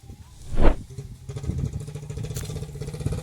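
A mini tractor engine runs nearby with a steady mid-pitched putter, and a brief louder burst from another vehicle passes early on.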